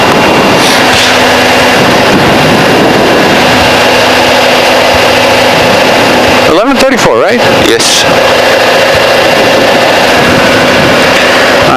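A Cessna 185 light aircraft engine idles steadily after start on a windy day at Republic Airport, a continuous loud drone running throughout, with people talking over it in the cockpit and a brief crackle partway through.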